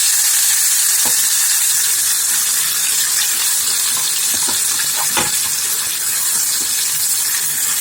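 Chopped onion and tomato frying in a pan for a quick kara kuzhambu, a steady loud sizzle and hiss with a few sharp crackles and spits, no voices.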